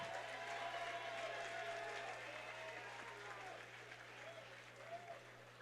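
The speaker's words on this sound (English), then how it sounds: "how about a round of applause for 2 great fighters and 1 great fight?" Steady applause from a crowd after a three-round kickboxing fight fills the whole stretch, a dense patter of clapping that fades slightly toward the end with a voice faintly underneath.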